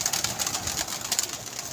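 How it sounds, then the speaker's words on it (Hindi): Pigeons at a pigeon club coo in soft, repeated throaty pulses, close and fairly loud, with a busy chatter of birds behind them and no speech. "ये भी कबूतर देख, बड़ा अच्छा कबूतर आया"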